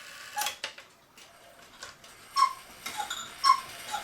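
A 1940 LUX cuckoo clock with its side panel off, giving soft, uneven mechanical ticks and clicks, close but faint, with a few brighter metallic taps.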